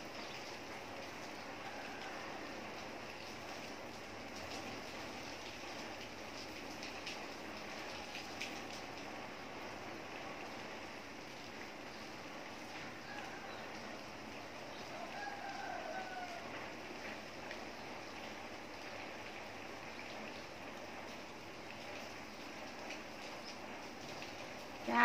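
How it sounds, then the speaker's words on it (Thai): Steady, soft rain of the season's first shower falls at a home in the countryside, a faint continuous patter and hiss holding evenly for the whole stretch with no voices over it. "ฝนตกครั้งแรก"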